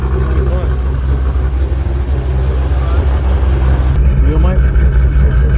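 An 800 WHP car engine idles close by while it warms up, a loud steady low rumble that holds throughout. People talk over it.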